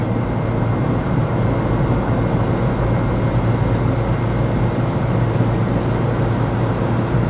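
Steady broadband engine and road roar from a car cruising at 70 mph with the throttle plate pushed slightly open, a continuous loud drone with no breaks and no voices.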